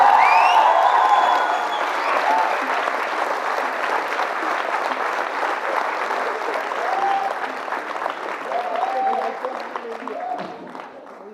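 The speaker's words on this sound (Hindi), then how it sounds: "जोरदार तालियों के साथ स्वागत।" A theatre audience gives strong applause welcoming a play's director, a loud sustained clapping that fades gradually, with cheering and a voice faintly over it.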